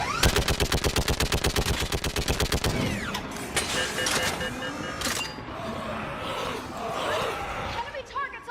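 Rapid automatic gunfire in the video game Mass Effect 3 during a battle on Thessia, a fast loud burst of shots followed by scattered explosions, impacts and combat noise.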